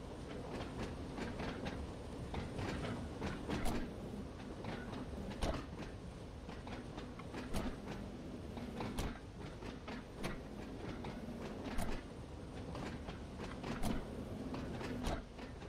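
A simulated train on the Isle of Wight line in Train Sim World 2 runs with a steady rolling rumble and regularly spaced rail clicks, a continuous, fairly quiet cab-level drone.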